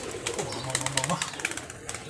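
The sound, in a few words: Giribaz pigeons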